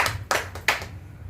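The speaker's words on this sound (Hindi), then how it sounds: "आप तालियां वगैरह बजाते रहेंगे" A few sharp hand claps, about three distinct ones, ring out quietly from an audience at an Urdu-Hindi shayari and ghazal recitation. The claps are spaced apart and stand alone over a faint low background hum.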